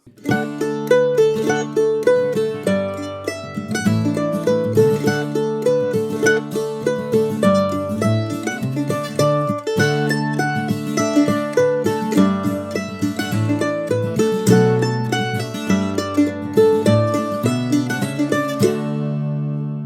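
A mandolin plays the lively Irish polka Egan's Polka alone, bright plucked notes in a bouncy 2/4 rhythm, close and steady throughout.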